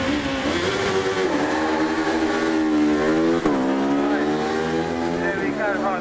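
A race car at the Brighton Speed Trials revs loudly nearby, its engine note climbing and dropping in repeated sweeps with a sharp gear change midway, while people talk faintly underneath.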